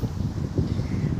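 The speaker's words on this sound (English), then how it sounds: "it's really windy out here." Strong wind blows outdoors across the microphone in low, uneven rumbling gusts that buffet and swell through the moment, with no talk heard.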